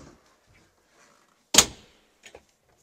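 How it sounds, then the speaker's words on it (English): A windscreen door swings open on a Pursuit DC 246 boat, giving one sharp close knock followed by a couple of faint light taps, with no voices. "We open up the windscreen door and the windshield to step into the bow area."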